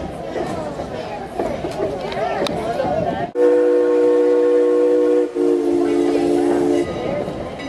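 A Strasburg Rail Road steam passenger train rolls along with rumbling carriages and chatter, then a loud, sustained steam whistle blows twice in long blasts close by.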